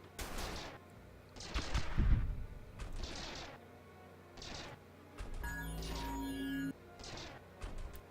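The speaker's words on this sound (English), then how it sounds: "We got a lot of lasers shooting at it." Space battle in the strategy game Stardrive 2 with lasers and rockets firing in repeated sharp bursts, moderately quiet, with a sustained tonal weapon hum in the middle and no voices.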